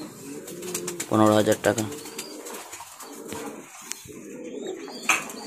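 Fancy pigeons, high-quality Bombai birds, coo in a close, rolling burst amid more scattered calls, while someone talks over them.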